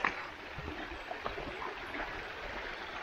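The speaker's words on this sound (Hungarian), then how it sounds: "ez most egy kis patak" Small mountain stream of rainwater on a hillside, a steady close trickling and gurgling wash of running water with no talk over it.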